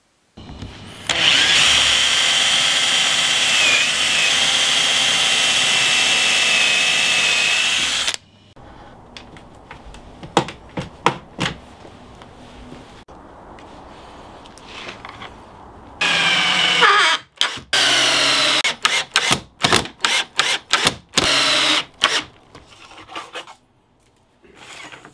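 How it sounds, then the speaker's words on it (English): Power drill driving screws through wooden pieces into a ceiling-mounted camera track, a loud sustained whirring run, then scattered knocks and handling clatter, then more drill bursts ending in short stuttering pulses. "We cut three pieces to mount to the top of the track and attached them with screws."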